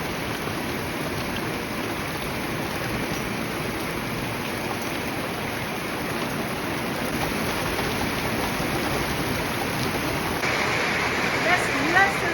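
Dense, steady roar of heavy rain and hail pouring down on a homestead, a continuous broadband hiss with scattered sharper impacts, close and loud throughout.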